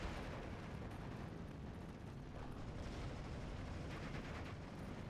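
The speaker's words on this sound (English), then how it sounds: "Mortars coming in." Mortar fire in a real-time strategy battle game, a dense, unbroken roar of explosions and battlefield rumble that stays loud and even throughout without clearly separated blasts.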